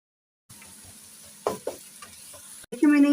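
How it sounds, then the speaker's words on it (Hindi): Onions sizzling in a hot pan, with a few scraping stirs of a spoon and the frying growing louder toward the end. "इसको गोल्डन फ्राई करेंगे"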